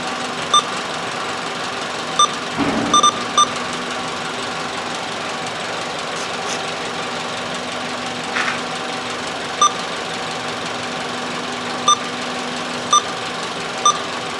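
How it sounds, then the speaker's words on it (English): Vauxhall Corsa D 1.2 A12XER petrol engine from 2014, idling with a P0171 lean fault, holds a steady low hum with a faint start-up burst near the beginning and a few small ticks over the constant drone. "So I have started the engine."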